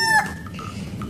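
A toy rooster gives a short electronic crow, one bright tonal burst opening the clip, followed by faint lingering tones over a low background hum.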